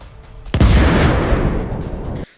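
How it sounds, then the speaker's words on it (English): A hand grenade dropped from a drone bursts on a Russian tank with a sudden sharp blast, followed by a loud, rumbling roar that sustains for well over a second before cutting off. "the drone swoops down and drops the grenade at just the right moment, causing a powerful explosion"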